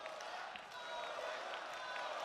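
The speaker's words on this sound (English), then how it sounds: "You can hear the crowd beginning to rally behind Lola Vice." A wrestling arena crowd during a tag-team women's match hums and cheers at a distance, a faint, continuous roar with scattered claps and shouts.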